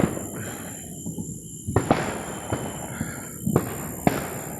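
Fireworks bursting outdoors on a Fourth of July night: several sharp pops and cracks at irregular intervals over a steady hum of insects and distant ambient noise, fairly far off and moderate in loudness.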